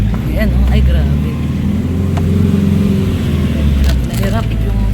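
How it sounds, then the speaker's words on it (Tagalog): A vehicle engine labours loudly and steadily while driving through deep mud on a muddy road, with voices talking over the constant strained drone. "Nahirap yung sasakyan."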